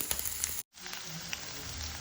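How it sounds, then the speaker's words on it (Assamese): Onion frying in hot mustard oil for a mint chicken curry, a dense steady crackling sizzle close by, briefly cut by a momentary dropout before resuming evenly. "এয়া আমি গৰম তেলত মিঠাতেলত এয়া পিঁয়াজ দি দিলোঁ আৰু অলপ দেৰি আমি ভাজিম"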